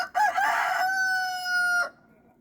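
A rooster crows once nearby, a loud strained cock-a-doodle-doo lasting nearly two seconds with a long held final note before cutting off, alone in a farmyard setting.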